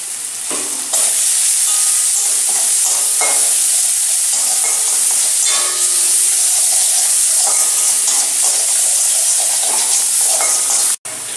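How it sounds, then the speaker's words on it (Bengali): Spice paste (masala) for galda chingri (prawn) malaikari fries in a pan with salt, chilli powder and turmeric, a steady loud sizzle and hiss running throughout, broken by the scrape and clatter of stirring. "মশলাটা আমি খুব ভালো করে কষে নেব"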